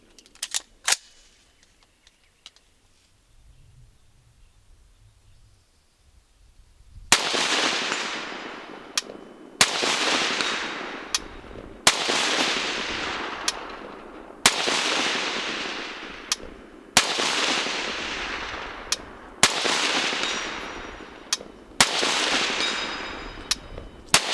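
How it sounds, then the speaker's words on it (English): Rifle shots in a competition shooting stage at a 200-yard target ring out one at a time at a slow, regular pace, each sharp crack followed by a long decaying echo, loud and near, after several quiet seconds. "Expending those last 8 rounds for the best grouping that you can."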